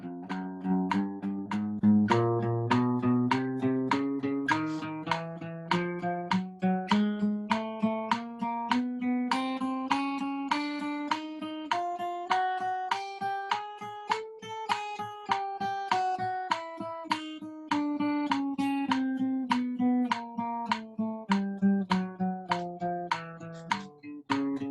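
An acoustic guitar plays even eighth notes at two picks per beat in a long steady stream, the notes rising and then falling in pitch, clear and alone.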